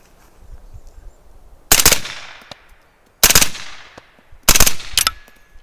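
Suppressed 9mm rifle upper fired with a binary trigger, giving three loud, close bursts of rapid shots spaced over a few seconds, each burst a tight cluster of reports with a short decay, against a quiet outdoor background.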